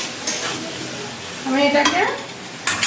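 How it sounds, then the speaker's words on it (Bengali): Potatoes cook in oil in a pan, a steady soft sizzle with stirring scrapes, while someone speaks briefly over it. "এই তেলেতেই স্টিমেই আলুটা সেদ্ধ হবে"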